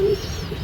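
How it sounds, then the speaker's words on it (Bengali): Pigeons sunning and walking about give a short, low coo up close, followed by a steady hum of background noise. "কবুতর হাঁটাহাঁটি করতেছে"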